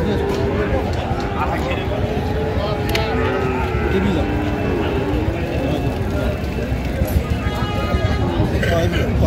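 A bull lets out several drawn-out, wavering moos amid a busy, noisy crowd of people talking all around at a cattle market in Chittagong, Bangladesh, where the bulls are Sahiwal breed.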